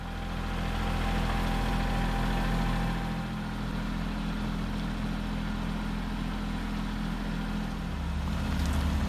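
A tractor engine drones steadily while the machine carries a roughly 1,000 lb, 7' 6" tall pallet over rutted ground, a low, continuous rumble with a slight dip in the middle and no voices.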